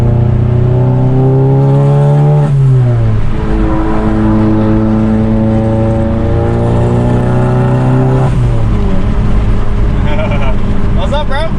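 Volkswagen Golf GTI MK7 with a turbo inlet, engine and exhaust loud and close as it accelerates hard through two gear changes, pitch climbing then dropping at each shift, with turbo whoosh and wind noise.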